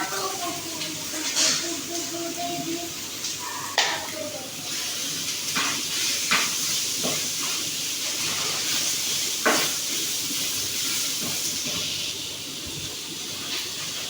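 Chopped onions hit hot oil with curry leaves for a prawn biryani, giving a steady hissing sizzle, fairly quiet, broken by a few sharp clicks and light pops.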